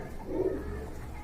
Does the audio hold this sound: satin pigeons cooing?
yes